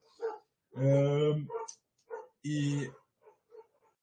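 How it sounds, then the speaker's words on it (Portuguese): Several dogs bark and yap in the background, audible as short bursts separated by pauses, with someone speaking intermittently between them. "não sei se vocês escutam, mas é numa discussão canina lá no fundo."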